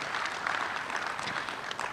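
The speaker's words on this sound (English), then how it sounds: "A big round of applause." Audience applause at a policy seminar on macro-financial resilience, a steady dense wash of clapping that holds evenly from start to finish with no voices over it.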